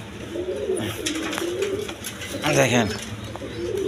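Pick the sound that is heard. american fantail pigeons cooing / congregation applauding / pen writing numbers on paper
american fantail pigeons cooing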